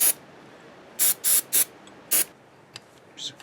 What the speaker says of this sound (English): I'm going to put some of this freeze-off stuff on here.